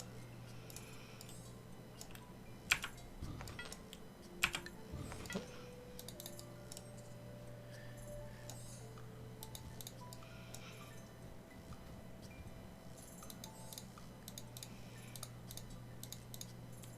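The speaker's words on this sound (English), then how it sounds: "Lots of right-clicking" Quiet computer mouse clicks, including right-clicks, tick sporadically during a Civilization III game session, set against a low steady hum and occasional game tones, with no talk.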